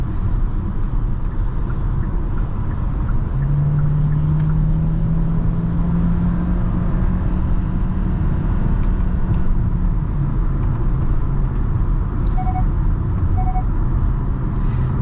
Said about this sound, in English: A little bit of delay from the turbo, but once that turbo kicks in, it's very quick.